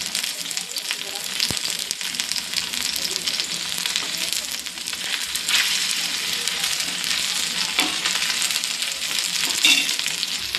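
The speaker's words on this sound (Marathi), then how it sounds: "अशाच प्रकारे मी हे सगळे पीसेस फ्राय करून घेणार आहे." Chicken pieces frying in a pan, a loud, continuous crackling sizzle that holds steady for about ten seconds with occasional pops and spatters.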